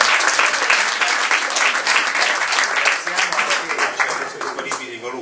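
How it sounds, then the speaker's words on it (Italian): Audience applause fills a talk at an archaeological garden event, a dense, steady wash of many hands clapping together, loud and close, holding evenly for several seconds before thinning slightly at the end. "E ci faremo un applauso."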